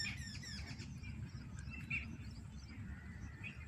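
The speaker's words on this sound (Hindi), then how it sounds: "सुबह सुबह चिड़ियाँ चहचहा रही हैं" Birds chirp softly and intermittently on a quiet village morning, brief high calls scattered over a faint, low background hum.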